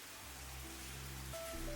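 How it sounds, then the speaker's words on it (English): Rain falls at an eco-resort in Coorg, India, as a soft continuous wash of noise, with low steady hums and a faint tone running beneath it, gradually swelling slightly louder. "it started to rain again"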